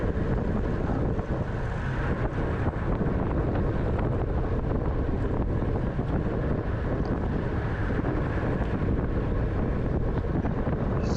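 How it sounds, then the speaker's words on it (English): Wind noise from a cross headwind on the front stretch of a criterium bicycle race buffets the microphone as a constant, loud, broadband roar that never lets up. "Kind of a cross headwind, I think, on the front stretch"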